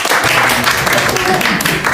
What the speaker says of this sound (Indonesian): Kasih tepuk tangannya buat kelompok.